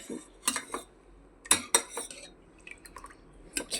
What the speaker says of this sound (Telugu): అప్లై చేసుకున్న తర్వాత స్పూన్తో మంచి కలపాలి.